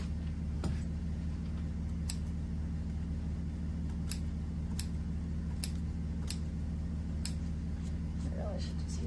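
Scissors snipping off excess upholstery fabric on a Louis XVI style chair, a sparse series of sharp individual cuts over a steady low hum.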